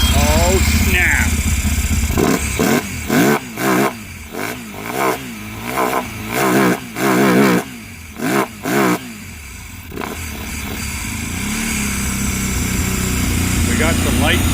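A repossessed CFMOTO 800 engine close by, choppy bursts of cranking and sputtering firing for several seconds before it settles into a steady running idle.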